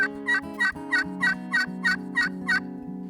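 A wild turkey tom in mountain woods gobbles in a fast, regular series of about eight loud, close rattling bursts over a steady low droning tone.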